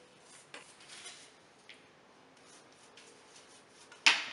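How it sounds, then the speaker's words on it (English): A pan is handled on a kitchen surface as tilapia is set in it, making soft scrapes and light metallic clinks. A sharp, louder clatter comes near the end, with no talking. "we're going to take our pan, okay, and we are going to put our tilapia there"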